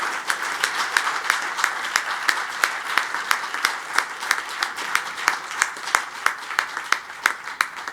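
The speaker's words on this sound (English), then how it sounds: "A huge round of applause once again for the awardee." An audience at a Rotary Club award ceremony applauds steadily for several seconds, with a few louder individual claps standing out above the continuous patter.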